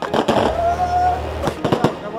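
A large mortar firework bursting, sharp loud cracks and bangs in quick clusters at the start and end, with a brief whistle between and people talking excitedly over it.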